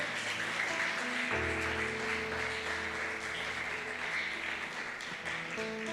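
A church congregation clapping as an offering of praise to God: a continuous wash of applause that blends with sustained keyboard-like musical tones throughout.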